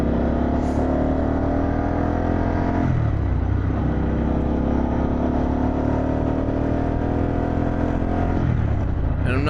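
Harley-Davidson Pan America motorcycle fitted with a Vance & Hines exhaust, a steady loud engine rumble running throughout with a couple of rev swells and dips, close by.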